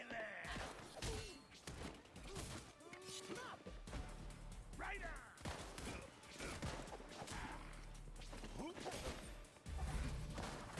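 Gunfire and combat from the video game Gotham Knights: dense bursts of shots, thuds and crashes over a busy game soundtrack, with players talking throughout.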